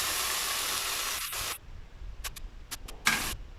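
Ground masala paste hits hot oil for a Chettinad fish curry, giving a loud, steady sizzling hiss that cuts off abruptly, followed by a few short spitting crackles.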